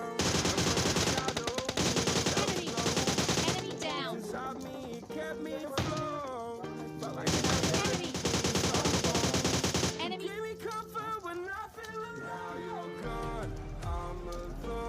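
Gunfire in the video game PUBG, loud close bursts of automatic fire in long rapid runs, broken by short pauses, with single shots and game effects in between.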